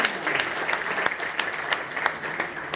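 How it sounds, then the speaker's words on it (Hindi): An audience claps steadily to honour widowed mothers at a memorial gathering, a dense wash of applause with a few sharper hand claps standing out and no voices over it. "ताली बजा करके इनके सम्मान।"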